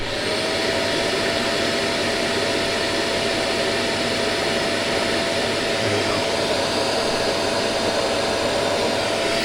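A vacuum cleaner drones steadily at close range, a constant whining roar that never changes pitch or volume.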